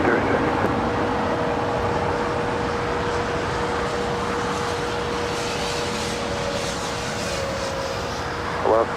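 A Korean Air Boeing 777-300ER taxis to the gate at LAX after landing, a steady broad jet engine rumble with a faint whine holding level throughout, moderately loud and unbroken.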